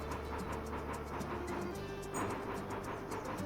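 A train rolls along steadily in the Bounty Train video game, a continuous low rumble with faint rhythmic clicks throughout.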